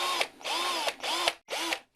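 Parkside PWBSA 12 A1 12V cordless angle drill running in four short whirring bursts with brief pauses between them, close and loud, with a pitch that rises and falls as each burst spins up and slows.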